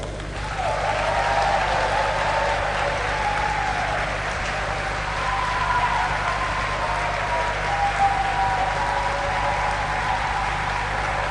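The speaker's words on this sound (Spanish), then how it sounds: "Ahora viene otro aplauso" Congregation applauding during a church sermon, a sustained wash of many hands clapping steadily with a faint murmur of voices, lasting several seconds.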